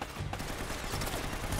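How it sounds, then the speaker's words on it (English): Rapid gunfire from the video game Uncharted: Drake's Fortune, a dense continuous barrage of shots with bursts throughout, loud and steady with no voice over it. "Nice shooting."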